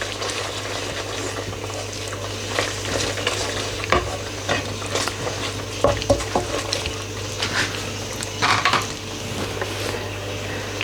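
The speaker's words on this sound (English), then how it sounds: "And just stir it a little." Yogurt curry (kadhi) being stirred in a pot on a turned-off stove, with a spoon clinking and scraping against the pot now and then over a low, steady bubbling sizzle.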